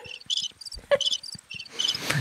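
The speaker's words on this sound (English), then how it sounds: "I think that was crickets." Crickets chirp in short bright pulsed bursts, clear and fairly close, with a few thumps and a rustle between them and no speech.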